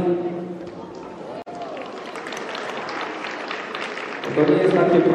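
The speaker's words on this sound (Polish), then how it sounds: "Brawa dla nich." Applause from participants after a judo-style throwing technique demonstration at a school sports training session, a mid-distance crowd clapping that swells near the end, with someone speaking over it.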